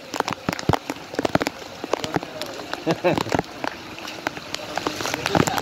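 Rain falling on surfaces outdoors where children splash and play, heard as irregular close patters and drops over a steady wash, with voices present underneath.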